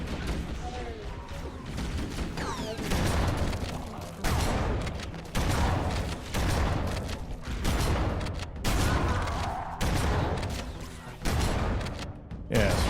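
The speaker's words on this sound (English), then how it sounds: "Grab our shotgun here and start blasting our way through them." Shotgun blasts in Halo: CE Anniversary against the Flood, heavy booming shots repeated roughly every second amid combat noise, loud and close, with a voice briefly audible.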